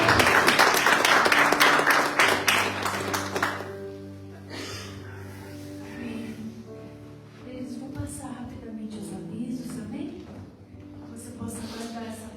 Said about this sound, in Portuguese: Você que pode aplaudir o Senhor.